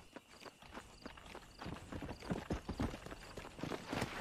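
Horse hooves clip-clop steadily in the Red Dead Redemption video game, a fast, even rhythm of hoof strikes moving at a walk or trot, fairly close and continuous without speech.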